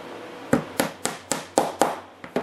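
Small brass rivets with tapered points tapped one by one into the deck of a 1/14 scale LESU track loader trailer model, seven sharp, close taps at a steady, slightly uneven rhythm over a faint background hum.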